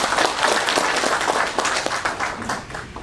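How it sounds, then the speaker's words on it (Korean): Audience at the No Gun Ri Peace Prize award ceremony claps to welcome a guest, brisk, loud applause with distinct individual claps, steady for a few seconds and slightly tapering. "양해찬 노원이 사건 희생자 유족회장님 큰 박수로 환영해 주시면 감사하겠습니다."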